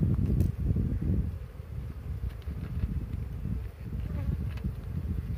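A swarm of honey bees being captured and moved into a standard hive box in the countryside fills the air with a dense, continuous low buzzing, steady and close, with some wind rumble and no speech.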